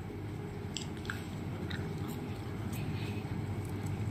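Crinkle cut fries from a burger restaurant being bitten and chewed close up, soft crunches and moist chewing repeated over a low steady background hum.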